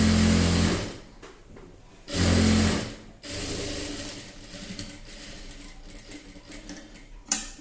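A sewing machine double-stitches chudi pant fabric in loud bursts: a run of about a second, a pause, another short burst, then quieter mechanical rattling and handling of the cloth.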